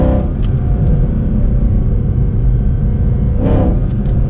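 A Mercedes-AMG C63 Black Series engine heard from inside the car, a deep loud rumble held steady, with a short burst near the start and a sharper rise toward the end.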